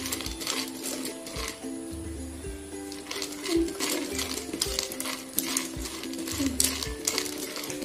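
Cashews roasting and being stirred in a pan, with repeated rattling metallic scrapes and clinks in an uneven rhythm over a faint low hum, close and moderately quiet.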